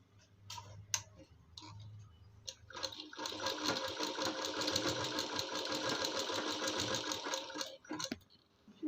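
Sewing machine stitching a girl's kurti, sewn with a half-inch seam: a few short ticking bursts, then a steady fast run of close mechanical clatter for about five seconds before it slows and stops.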